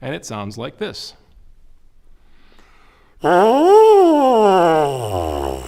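A trombone mouthpiece buzzed on its own gives a raw, reedy buzzing tone that swoops up in pitch and then falls. It follows a brief spoken line and a pause, and it is loud and close.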